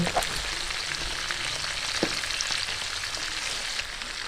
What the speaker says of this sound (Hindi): दूसरी साइड को भी हम 3 से 4 मिनट के लिए फ्राई करेंगे